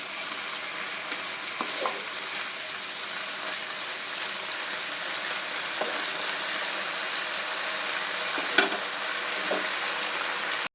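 Mashed banana flower paste with a little sugar fries in a pan for a vegetarian dish, a steady hissing sizzle broken by occasional spatula scrapes and taps throughout, close and fairly quiet.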